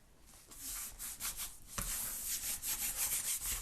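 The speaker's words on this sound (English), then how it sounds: "Give it a good rub." Hands firmly rubbing the glued paper cover of a handmade squash book, a close, soft scratchy swishing in repeated back-and-forth strokes with no talking.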